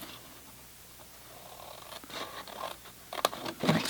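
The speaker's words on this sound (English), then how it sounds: "So I'm just going to cut" Blades cutting through card for a tall gift box, heard as faint scraping that grows into louder crisp snips and scratches toward the end, close by.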